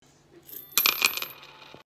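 Dimes fall onto a surface in a bright, close metallic clatter, several quick clinks and rings tumbling together before fading with one last tap.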